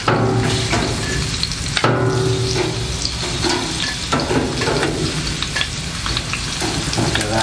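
Meat frying on an outdoor grill beside ribs, a steady close sizzle and crackle with sharp pops and scraping from stirring or moving the pieces, filling the whole stretch with no talking.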